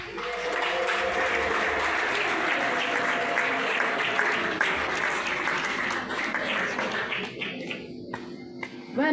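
An audience claps for pioneer missionary sisters, dense sustained applause that fills the room from the start, thinning into scattered claps near the end.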